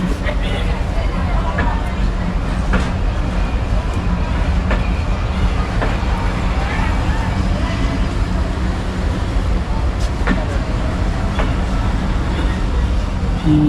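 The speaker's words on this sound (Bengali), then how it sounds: "ট্রেনটা ছেড়ে দিয়েছে এই ট্রেনটা চাঁপাইনবাবগঞ্জ জেলা থেকে ছেড়ে যাচ্ছে" A train pulls away from Chapainawabganj toward Rajshahi, its heavy rumble and clattering wheels steady and close, with scattered sharp clanks and someone talking over the noise.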